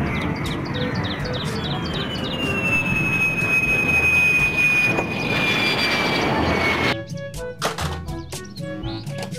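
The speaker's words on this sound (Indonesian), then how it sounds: "Pesawat jet tempur." A toy fighter jet gives a loud electronic whine over a noisy roar, the high tone sliding gradually down, then stops abruptly and is followed by short scattered electronic bleeps.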